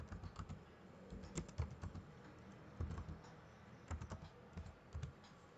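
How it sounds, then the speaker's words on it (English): Text being typed on a computer keyboard for an AutoCAD 2018 text command: quick, irregular bursts of close, quiet keystrokes with short pauses between them. "now type the text"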